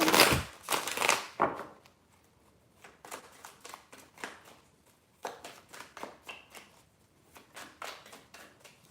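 Tarot cards being shuffled by hand: a loud riffle at the start, then a quieter series of soft taps and flicks in uneven bursts, close and alone.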